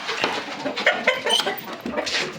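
A hen clucks in a few short, uneven bursts close by, with no talking over the sound.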